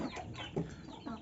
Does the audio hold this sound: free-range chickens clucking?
yes